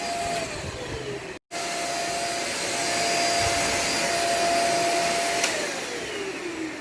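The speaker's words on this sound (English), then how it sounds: "Use it on the couch." A Deermah vacuum cleaner runs steadily on a couch, its loud constant motor whine shifting slightly in pitch as it moves, with one brief cut near the start.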